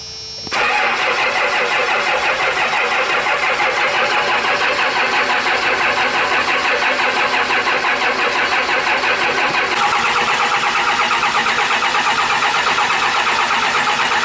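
A Cummins engine in a van cranks and catches within the first second, then runs steadily at a loud, even idle, with a slight change in tone about ten seconds in.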